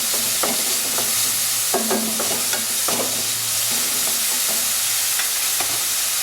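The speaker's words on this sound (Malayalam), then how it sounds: "ഒരല്പം ഉപ്പ് ഒന്ന് ഇട്ട് കൊടുക്കുക. സവാള പെട്ടെന്ന് വഴണ്ടി കിട്ടാൻ വേണ്ടി." Sliced onions with a pinch of salt sautéing in a pan, a loud continuous sizzle broken by repeated spatula stirs and scrapes, close up with nobody talking.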